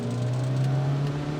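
A 1984 Fiat X1/9 Bertone, a small, lightweight, low-slung Italian sports car with a revvy little engine, accelerating under a hard throttle, with a steady loud engine drone rising slightly in pitch and heard from close by.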